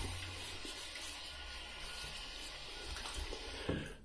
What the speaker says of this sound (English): let's put some warm water in my face.